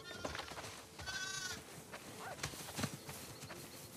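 Sheep bleat on a farm in The Last of Us Part II video game, with a couple of wavering calls over shuffling hooves and faint movement, fairly close, and no voices.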